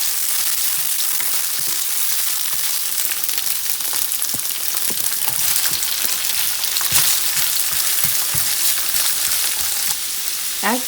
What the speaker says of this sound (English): I've heated about 3 tablespoons of oil in a pan, and now we're just going to add our beans.